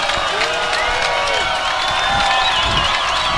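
A high school football crowd roars and cheers through a third-and-long play at Bishop Miege versus St. Thomas Aquinas, a loud, sustained wall of shouting and whoops with scattered clapping and whistles.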